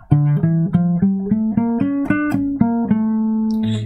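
A single guitar plays a D harmonic minor scale rising and falling, one clear sustained note after another at a steady pace, close and alone.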